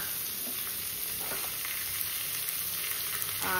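Chopped onion frying in a pan on a home stove beside dal, with a continuous close sizzle and light stirring scrapes and no talking.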